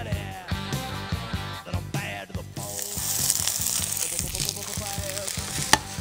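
Finely chopped greens sautéing in a generous splash of olive oil in a pan, a steady close sizzle that builds partway through, under background music.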